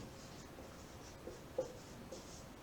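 Faint scratchy strokes of writing on a board during a Sanskrit grammar lesson, soft and intermittent over quiet room tone, with no talking.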